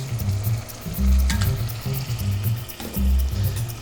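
Tomato sauce of chopped tomatoes hits translucent onions in a hot pan, setting off a loud, close sizzle with a few low bubbling pulses and some clinks from stirring.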